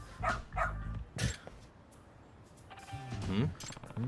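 Dog barks from the Lost Judgment video game ring out in a few short, sharp bursts early on, with game dialogue voices speaking around them.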